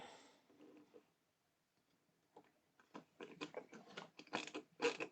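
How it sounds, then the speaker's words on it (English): A small stubby screwdriver drives screws into a 1:48 scale U96 U-boat model, first a few faint scrapes, then a close run of quick ratcheting clicks and tight turns that grow louder toward the end. "Let's use my little stubby screwdriver today."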